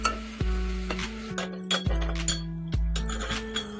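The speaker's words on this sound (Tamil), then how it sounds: "நறுக்கி வச்ச வெங்காயம், பூண்டு, கருவேப்பிலை எல்லாம் போட்டு கொஞ்சம் நல்லா வதக்கணும்." Chopped onion, garlic and curry leaves fry in a pan while a metal spoon scrapes and clinks against it in regular strokes, with a soft sizzle underneath; close and distinct, no speech.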